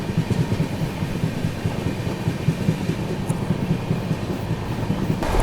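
Rolling rumble of the Grand Trunk Express just after leaving Betul railway station, a continuous low wheel-and-rail drone heard from inside a coach, steady and fairly loud, with no voices.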